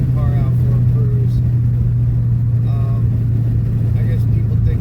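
A Ford Mustang GT cruises through the gears with a steady, loud low engine rumble throughout, while someone talks over it.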